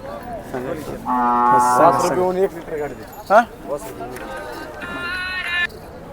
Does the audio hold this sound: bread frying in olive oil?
no